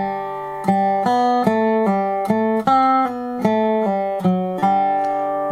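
A dobro plays the Big Sciota fiddle tune as a bare single-note melody with no double stops, about a dozen clear plucked notes in steady rhythm, each ringing with bright overtones, close and alone.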